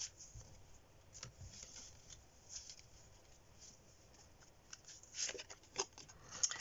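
Tarot cards being shuffled and handled for a card reading, soft papery riffles and flicks, faint and close, growing busier toward the end.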